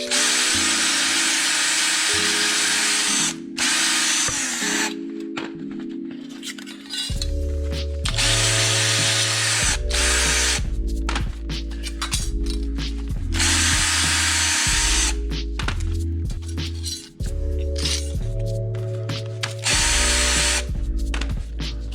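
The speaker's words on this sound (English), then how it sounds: "I'm just going to use the wire brush" A wire brush spun by a power drill to clean Evo 8 brake shims, the motor whining in repeated bursts that rise and fall in pitch with brief pauses between, loud and close with a harsh scratching rasp.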